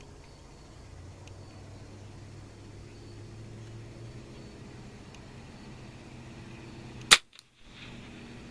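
A single sharp rimfire gunshot cracks out at an outdoor shooting range, one loud brief report near the end after a quiet stretch of low ambient hum.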